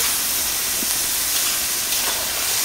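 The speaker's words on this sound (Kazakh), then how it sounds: "Мінекей тамағымыз 2 минуттай қуырылды." Vegetables and meat fry for dymlyama in a kazan cauldron over an open campfire outdoors, giving a steady broadband sizzle and hiss that runs throughout without talk.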